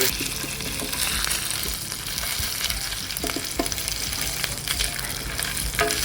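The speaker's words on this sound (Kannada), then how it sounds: "ಇದನ್ನು ಕರೆಕ್ಟ್ ಫ್ರೈ ಮಾಡಬೇಕು" Ginger garlic paste fries in mustard oil for an onion chicken dish, a steady dense sizzle with occasional stirring scrapes, close and continuous with no talk.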